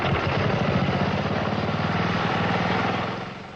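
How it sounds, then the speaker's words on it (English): Lawnmower engine fuelled mostly by Mountain Dew with a little gasoline, running loud and steady close by with a fast, even low pulsing throb that eases off slightly at the end. "This engine is powered mostly by Mountain Dew, along with a bit of gasoline"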